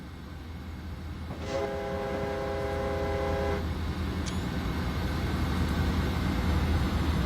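A BNSF ES44DC diesel locomotive in Train Simulator 2016 rumbles past at speed, sounding a steady multi-tone horn blast for about two seconds over a continuous rising roar of engine and wheels.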